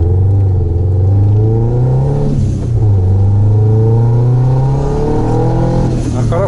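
A Nissan X-Trail engine drones loudly and climbs in pitch as it accelerates in strong wind, a steady close rumble dipping briefly before rising again.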